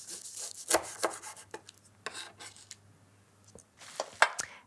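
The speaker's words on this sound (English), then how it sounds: "to cut through the pastry, I highly recommend using a serrated knife" Serrated knife sawing through flaky custard-slice pastry, giving close, dry crackly rasps in short bursts with quieter scraping between strokes.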